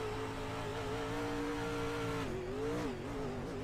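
A race car engine in the iRacing game drones steadily as the car runs out of fuel, its pitch holding and then wavering and dipping as the motor falters.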